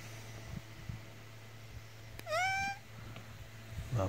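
A cat at bedtime lets out a single drawn-out meow near the middle, clear and close, over a steady low hum from a fan and a few soft bumps.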